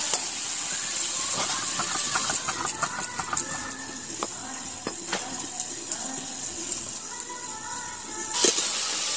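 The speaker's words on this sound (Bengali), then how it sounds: "ভেন্ডিগুলোকে ভালো করে তেলে কষে নেব।" Okra (bhindi) coated with turmeric frying in hot oil in a home kitchen: a steady, close hiss with scattered crackles and sharp pops, no voices.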